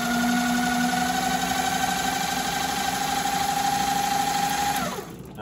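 Twin electric motors of a Sinclair C5 spin with the wheels off the ground, a loud, steady whine with a fixed pitch that winds down at the end as the motors stop, with no speech.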